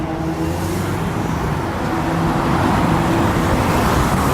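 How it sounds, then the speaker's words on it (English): An RTS city bus on the Q85 route at Green Acres runs with a steady, loud engine rumble and road noise, holding constant throughout with no voices. "One of the RTS buses here."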